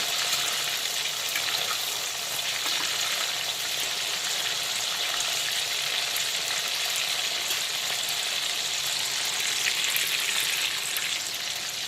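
Chicken pieces fry in hot oil for Kashmiri-style rogan josh, giving a constant bright, crackling sizzle with a fine spitting texture, close and even throughout, with no one talking.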